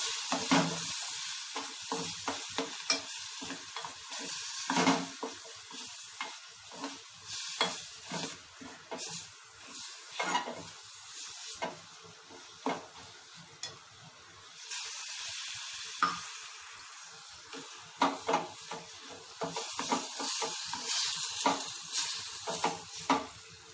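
Wheat halwa with jaggery and milk is stirred in a pan, with repeated scraping strokes of a spoon against metal over a soft simmering sizzle, continuing steadily and close up for the whole stretch.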